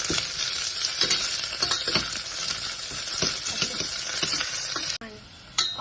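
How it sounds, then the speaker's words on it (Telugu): Finely chopped onion sizzles steadily in a hot pan for a home-cooked palak rice, with repeated scraping stirs cutting through the loud, continuous frying hiss before a brief dip near the end. "ఆనియన్ వేసి బాగా వేయించుకోవాలి."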